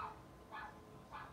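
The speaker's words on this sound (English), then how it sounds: "Dogs are going crazy out there." Dogs bark outdoors at a distance, three faint evenly spaced barks over a low background hum, no talk.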